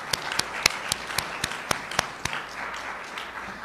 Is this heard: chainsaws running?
no